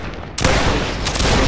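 Napoleonic reenactment regiment fires a musket volley: a sudden loud, dense burst of overlapping shots followed by sustained rolling crackle and echo, close and filling the space.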